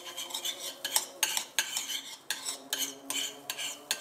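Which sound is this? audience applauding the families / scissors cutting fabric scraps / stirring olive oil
stirring olive oil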